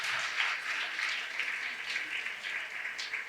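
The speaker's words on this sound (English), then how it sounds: "I think she requires a big round of applause for that." An audience at a club celebration of Rajasthan Day gives a sustained round of applause, a dense even wash of clapping at moderate loudness with faint voices mixed beneath it.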